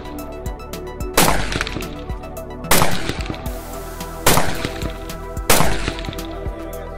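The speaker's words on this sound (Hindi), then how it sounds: "इंसास राइफल से एक दो या तीन नहीं बल्कि पूरी पांच गोलियां इन्होंने दाग दी" Four loud shots from an INSAS rifle ring out at roughly even intervals at a police shooting competition, each sharp crack followed by a rumbling echo that decays before the next.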